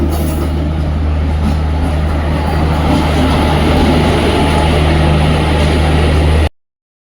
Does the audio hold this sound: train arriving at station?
yes